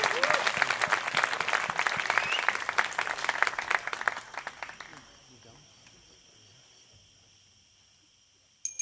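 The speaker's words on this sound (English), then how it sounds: "Give them a round of applause." A festival audience at an outdoor film and music event applauds, dense clapping that swells then fades away over about four seconds, leaving quiet background with a brief sound at the end.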